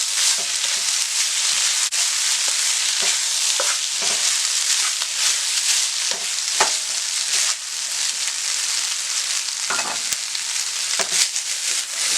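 Chicken fried rice sizzles loudly in a pan over high flame, with continuous frying hiss broken by repeated scraping and tossing clatters of the spatula, close and steady throughout with no talk.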